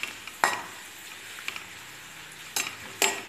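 Bitter gourd slices fry in oil with onion, curry leaves, green chilli and coconut bits, a soft steady sizzle nearby marked by a few sharp scraping clinks of the stirring spoon against the pan.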